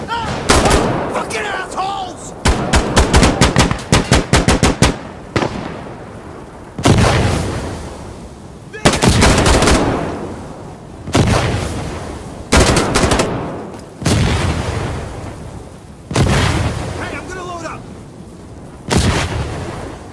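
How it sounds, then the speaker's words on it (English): Mortar blasts and gunfire in the shooter game Insurgency: Sandstorm: loud, close bursts of rapid rifle fire and heavy booms repeat in clusters throughout, leaving little quiet between them. "I think you're firing mortars!"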